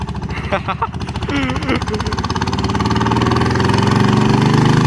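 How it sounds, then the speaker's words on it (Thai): A farm tractor runs along a road racing a ten-wheel truck, its engine a steady mid-pitched chugging drone that grows louder and closer over the seconds, with people talking over the top. "รถไถวิ่งแข่งกับสิบล้อนะครับ"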